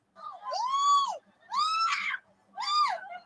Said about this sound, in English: But why you screaming like this?